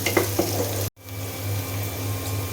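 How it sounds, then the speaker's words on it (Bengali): Chopped green chili, garlic and onion hit hot oil in a pan, a short bright crackle and sizzle, cut briefly by silence and then settling into a steady, close frying hiss. "তেল গরম হয়ে গিয়েছে। এখন দিয়ে দিলাম আমি কাঁচা মরিচ, রসুন কুচি আর পেঁয়াজ কুচি।"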